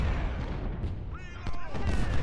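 Cannon artillery fire on a Civil War battlefield in the strategy game Ultimate General: Civil War, a dense run of booming blasts and rumbling gunfire that swells near the end, with voices mixed in.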